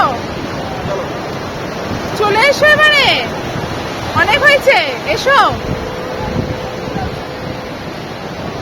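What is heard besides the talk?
sea waves on the beach at Puri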